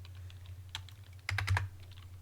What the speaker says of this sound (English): let's just type in Winget and see what it gives you